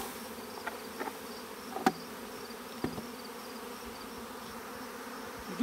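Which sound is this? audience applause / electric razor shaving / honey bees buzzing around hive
honey bees buzzing around hive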